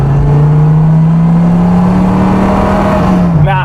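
A Dodge Viper engine revving hard as the drive begins, a loud, steady, close roar that climbs slightly in pitch and then drops, with a brief sweep near the end.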